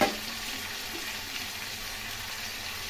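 Chopped ginger, onion and garlic fry in a pan with a loud, dense, steady sizzle that begins with a sharp burst as they hit the hot oil and continues without talk.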